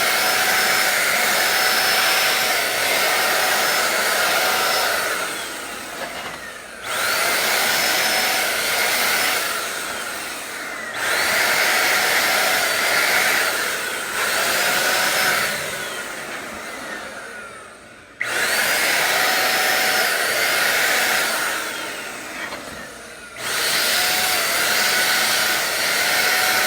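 HomeRight paint sprayer running in long continuous bursts while spraying narrow strips, a loud, close, breathy motor drone that cuts out briefly several times and restarts, with no voices.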